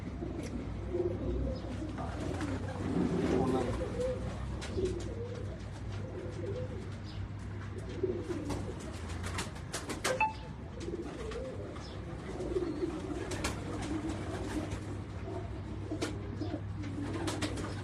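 Pigeons coo on a rooftop loft in Karachi, with several low, soft, overlapping murmurs running throughout over a steady background hum, moderately near.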